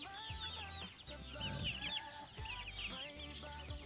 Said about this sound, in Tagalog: ito yung aking manok